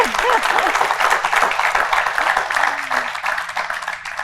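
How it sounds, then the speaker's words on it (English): Audience applause at the close of a policy talk show on tech and the creative economy, a dense steady patter of many hands heard with talk running underneath it. "Give them a round of applause."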